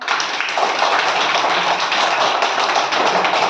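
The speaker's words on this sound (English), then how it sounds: "Clap your hands." A class of young schoolchildren clapping their hands together, a dense, continuous patter of many small claps, close and fairly loud with no pauses.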